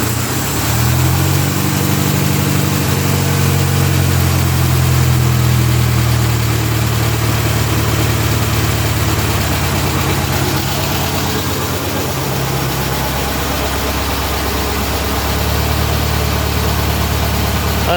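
A stock 1600cc VW engine idles on a dyno, a loud, steady low rumble with constant vibration that runs the whole time and dips briefly midway before settling back.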